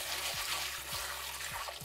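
Dried peas rinsed under running water, a close, steady splashing wash with a few soft rhythmic thumps as the peas are swirled, no voices.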